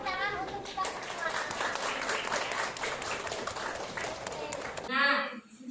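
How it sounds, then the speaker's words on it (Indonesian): A classroom of students claps together in a dense, sustained burst lasting several seconds. It ends abruptly as a voice starts talking. "berikan tepuk tangan untuk kita semua."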